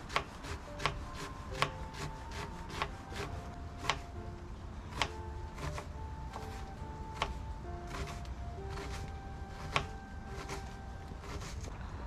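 A knife finely chopping onion for spicy kuzhi paniyaram, sharp wooden-board taps in quick irregular runs, close and fairly quiet, with no voices.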